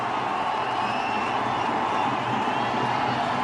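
Steady broadband roar of a large cricket crowd applauding and cheering at a 2009 India versus Sri Lanka one-day international, sustained and fairly loud throughout with no break.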